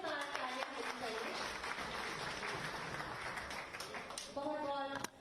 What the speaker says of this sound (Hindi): जोरदार तालियां करें